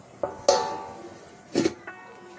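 A lid clanks and rattles down onto a pot of boiling milk: two bright metallic clinks, a smaller tap after them, all close by with no voices.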